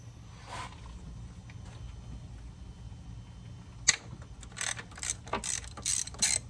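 A ratchet with a 6-inch extension loosens the ignition coil bolts on a 2004 Toyota Sienna. A quiet stretch of faint clicks gives way to bursts of rapid, close ratcheting clicks in short runs.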